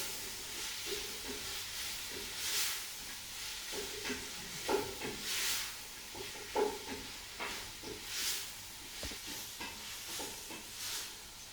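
Food stirred in a pot with a spoon while cooking a Caribbean dish with allspice, giving repeated scraping and clinking strokes over a soft steady sizzle-like hiss, moderately close, with no talking.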